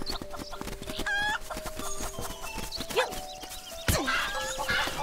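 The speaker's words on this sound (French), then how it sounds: "c'est l'attaque des poules sauvages" Wild chickens (cuccos) attacking in the video game Zelda: Link's Awakening, with repeated squawking clucks over a rhythmic clip-clop-like game beat and chiptune tones, moderately loud.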